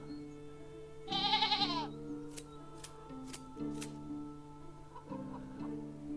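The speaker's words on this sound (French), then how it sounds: "Donc les moutons seraient par ici." A sheep in the video game Medieval Dynasty gives one wavering bleat over a steady, droning game soundscape, with scattered sharp ticks and clicks afterward; no voices.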